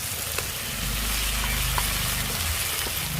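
Tomato, ginger and garlic frying in a pan, a steady close sizzle with faint scrapes of stirring over a few seconds.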